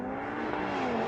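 A BMW M2 CS and an AMG A45 S accelerating hard side by side in a drag race, a steady, close engine roar with rising tone and no talk over it.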